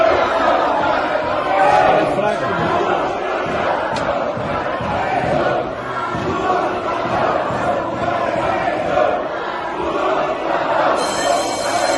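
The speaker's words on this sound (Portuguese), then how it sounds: "o Barba sendo vaiado no Congresso" A large crowd in the Brazilian Congress jeering and booing Barba, a loud, dense roar of shouting voices that carries on without a break.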